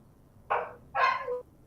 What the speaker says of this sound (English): There is a lot of dogs barking here.